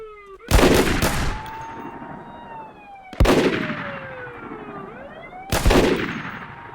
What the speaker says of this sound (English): the officer is taking shots at the suspect.